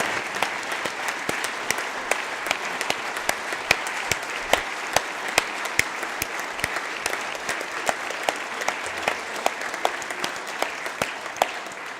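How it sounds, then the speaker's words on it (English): Members of the South Dakota House of Representatives applaud visitors from Brookings in the legislative chamber, a full, sustained wash of many hands clapping with crisp individual claps poking through across the whole stretch. "I'd ask everybody for a round of applause for all of our Brookings visitors today."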